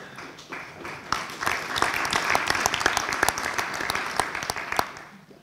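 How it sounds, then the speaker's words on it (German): An audience at a trade union's 2019 New Year opening event bursts into sustained applause, dense clapping rising quickly and holding steady for several seconds with a few sharper individual claps standing out. "Applaus"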